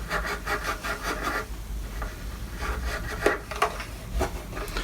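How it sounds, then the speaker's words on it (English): A clean yellow cloth rubs lightly over a varnished violin, making soft, close swishing strokes that repeat in a steady back-and-forth rhythm with a few slightly sharper scuffs. "So just need a very light polish with your clean yellow cloth every now and then"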